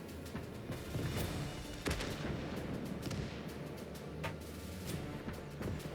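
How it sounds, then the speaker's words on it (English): Artillery fire from an SFH-18 howitzer in the World War II strategy game Call to Arms: Gates of Hell: several heavy booms, some distant and some closer, over a steady, dense backdrop of battlefield noise. "The SFH-18 howitzer in the rear will provide us long-range fire support."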